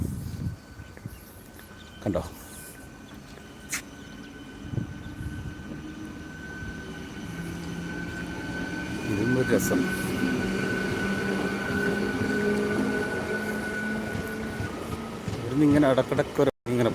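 Train at a crowded Bangalore railway station: a low rumble of rolling stock builds and swells through the middle, with thuds and clanks early on and a faint squeal, heard under busy platform crowd noise and a talking voice.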